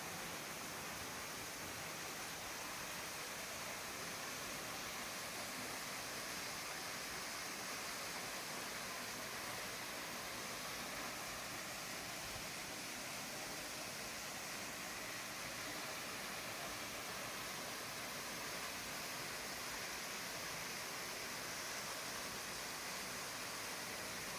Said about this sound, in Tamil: நம்ம தமிழ்நாட்டுக்கு பக்கத்துலேயே கேரளா பார்டர்லேயே இந்த மாதிரி ஒரு அருவி இருக்கிறது